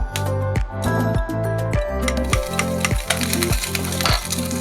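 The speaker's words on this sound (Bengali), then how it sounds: "একটা ডিম আমি একটু ফ্রাই করে নেবো" An egg fries in a pan as a bread-pizza topping. A continuous bright sizzle sits over a rhythmic, pulsing mechanical hum, loud and close throughout.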